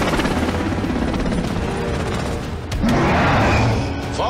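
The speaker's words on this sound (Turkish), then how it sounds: "Helikopter düşüyor." A military helicopter going down in a film battle scene on Skull Island: a loud, steady rotor roar that surges and grows more chaotic near the end, with rumbling booms and crashing underneath.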